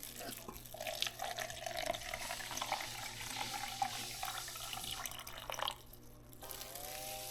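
Bleach is poured into a measuring cup as a steady trickling stream for several seconds. The liquid is close and fairly quiet, then stops, with faint background noise after.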